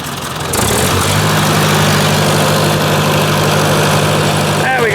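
Ford 800 tractor engine idles steadily and loudly close by after a brief start-up surge, a constant low rumble with a faint voice in the background.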